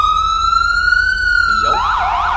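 A wail-type emergency siren from a FiveM game vehicle: a loud, steady rising-and-falling tone that sweeps slowly, then shifts into faster warbling cycles near the end.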